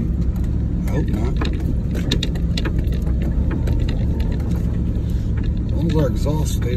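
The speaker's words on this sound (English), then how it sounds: "Our exhaust stays running, we ain't gonna get stuck." A Chevrolet Suburban engine and exhaust rumble steadily and loudly from inside the cabin while driving through snow in Nevada, with people talking over the drone throughout.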